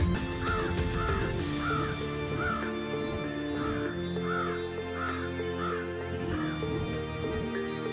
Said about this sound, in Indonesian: Dia terus mengikuti arahan burung gagak.